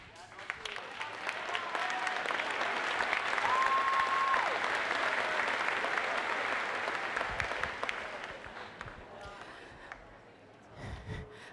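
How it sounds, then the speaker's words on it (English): An audience applauds at an 8th grade moving-on ceremony at Oregon Middle School: sustained, dense clapping from a large crowd that swells, holds steady, then tapers off into scattered claps and quiet room noise. "one more round of applause for our 8-0 scholars"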